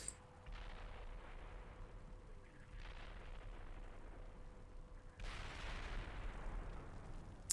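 Incoming gunfire and distant explosions in the Steel Beasts Pro PE tank simulator game, a steady rumbling barrage of booms and crackling shots that swells louder near the end, with no talking.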